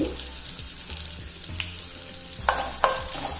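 Boiled rice tossed and stirred in a hot pan with fried curry leaves and asafoetida for katte pongal, a steady low sizzle with repeated scraping stirs and a couple of brighter clatters near the end, no talking.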